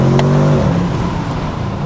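A 2023 Audi S8 facelift engine pulls through a twisty road, its steady droning tone easing off after the first half second as the revs settle, heard loud and close with the windows open and no talking.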